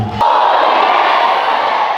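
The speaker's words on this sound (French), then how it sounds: "Le temps qu'elle avance, on l'applaudit." A gathered crowd breaks into applause and noise, a loud, continuous wash of clapping and cheering that swells in after a brief pause and holds steady.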